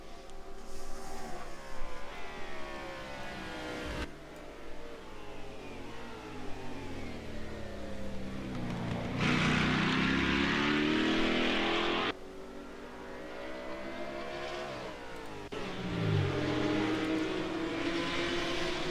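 Racing car engines in a video game endurance race scream and rev up and down continuously, cars passing with rising and falling pitch, loud and close throughout.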